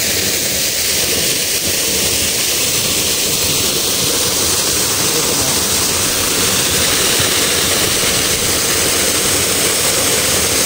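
Ragatan Falls in Barangay Mabato, Maragondon, pours with a loud, steady broadband rush of falling water that continues unbroken and without talk.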